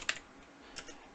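A computer keyboard is typed on, giving a few faint, quiet clicks across about a second.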